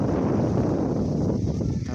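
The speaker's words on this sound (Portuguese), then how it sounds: "Tá ventando bastante aqui também" Strong wind blowing outdoors at a house garden, a steady broadband rush with gusty rumble, close and fairly loud, with faint distant music in the background.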